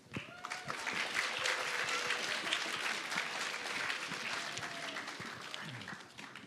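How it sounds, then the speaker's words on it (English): An audience at a Chinese New Year event applauds its distinguished guests, a dense burst of clapping that builds quickly, holds steady, then fades at the end. "Please give them a round of applause."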